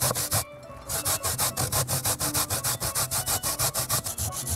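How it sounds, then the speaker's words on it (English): Peeled coconut flesh is rubbed hard against a grater in quick, even back-and-forth strokes, a close, rhythmic scraping of roughly twenty passes with one short pause near the start. "Okay, right now I'm breaking the coconut."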